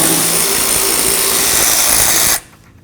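A power tool spins out the wiper transmission mounting bolts on a Dodge RAM 1500, a loud continuous close whir that cuts off abruptly after a couple of seconds.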